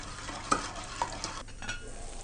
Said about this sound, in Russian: соль, сахар, горошины черного и душистого перца, а также лавровый листочек. Все это хорошо размешиваем и отправляем на огонь.